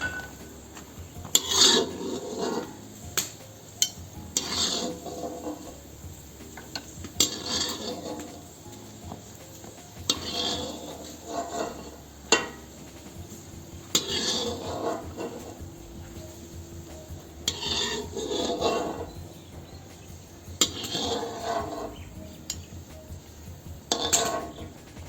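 Pork cracklings scraped out of a cauldron of Tashkent plov cooking over an open fire, with repeated rasping metal scrapes in irregular bursts and no voices.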